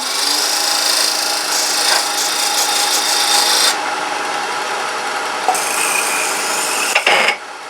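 Wooden box part being turned to a taper on a lathe, with a steady, close, bright cutting rasp running continuously and shifting in tone a few times as the tool works the wood.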